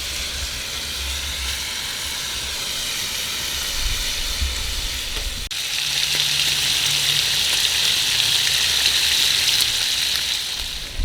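Meat hits a hot grill on a home kitchen stove, giving a dense, even sizzle and hiss that swells louder halfway through and holds steady, close and continuous with no talking.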